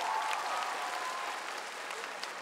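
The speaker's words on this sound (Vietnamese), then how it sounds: "cho em nghe một tràng pháo tay to được không ạ?" Audience applause at a televised dance competition gala finale, a dense steady wash of clapping that holds evenly throughout with a faint sustained tone beneath.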